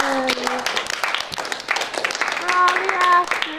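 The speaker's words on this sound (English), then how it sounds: "applause" Seventh-grade classroom clapping for student actors after a skit, scattered mixed claps with excited children's voices and cheering over them.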